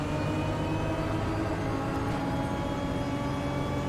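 Several race cars roar together in the sim racing game RaceRoom, a dense, steady engine drone at full loudness that swamps everything else, with no talking over it.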